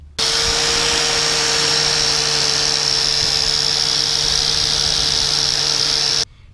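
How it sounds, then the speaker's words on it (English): Angle grinder with a wire wheel on RX-7 axle nuts, one loud, continuous high whine that starts abruptly, holds steady for about six seconds, then cuts off. "I'm working on anything with an angle grinder, especially this wire wheel"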